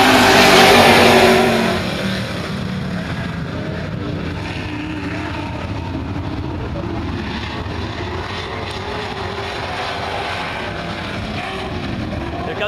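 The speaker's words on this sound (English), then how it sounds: "Here comes Fat Cat on the turn." Super stock cars racing a heat at Barona Speedway, a loud continuous roar of engines that swells briefly at the start, then settles into a steady mid-distance drone of several cars circling the track.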